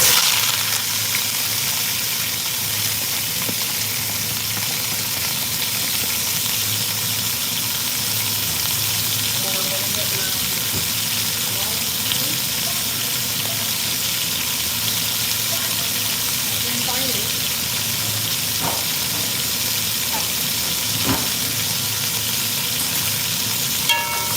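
Aromatics frying in a pan alongside ground turkey meatballs for a curry, a steady broad sizzle filling the whole stretch with a few faint clinks and stirring knocks, no voices.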